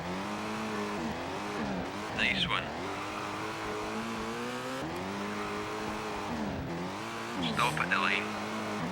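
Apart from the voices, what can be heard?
Subaru Impreza rally car driving in video game Colin McRae Rally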